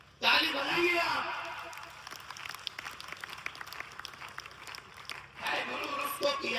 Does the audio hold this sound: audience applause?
yes